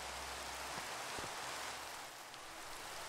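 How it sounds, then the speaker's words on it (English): Steady rain hisses in the video game Minecraft, a dense, even wash of falling drops with faint scattered taps, constant and unbroken throughout without talking. "It is raining."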